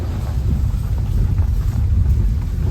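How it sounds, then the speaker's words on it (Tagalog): Heavy rain near the sea pours down in a loud, dense, low rumbling wash, with gusty buffeting against the microphone and no voices. "Kusog ang ulan."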